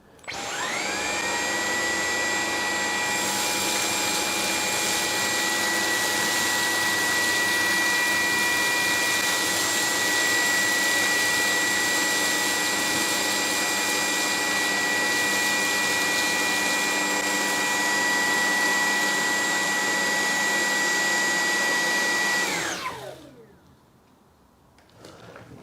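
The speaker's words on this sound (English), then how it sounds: "Now we're only going to test the V15 versus the Dreame R20 in this test. On a hard floor, it's actually porcelain tiles" Dyson V15 and Dreame R20 stick vacuums run on minimum settings over porcelain tiles, a loud, steady high-pitched whine that holds for over twenty seconds before winding down.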